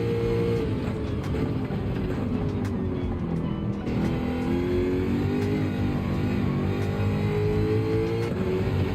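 A Jaguar race car on hard tires in Gran Turismo 7 revs hard through the gears, engine note rising and falling with shifts, a steady near drone with brief tire squeal.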